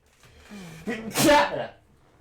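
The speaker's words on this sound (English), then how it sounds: "Oh, was that a sneeze?" A single sharp sneeze from a character in a dad dating sim game, sounding close and fairly loud after a short voiced breath.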